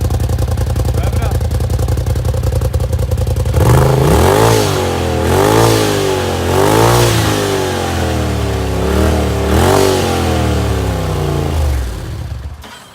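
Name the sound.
Polaris RZR turbo engine revving with aftermarket muffler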